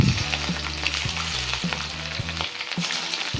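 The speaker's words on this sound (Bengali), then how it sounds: "এরপর একটি কড়াইয়ের মধ্যে আমরা তেল দিয়ে আমাদের চিকেনের পিসগুলিকে ভালো করে ভেজে নেব।" Chicken pieces fry in hot oil in a wok, a steady broadband sizzle with periodic low thumps and knocks from stirring, close and continuous, with no talking.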